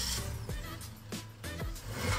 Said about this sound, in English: The Jimny sounds like this.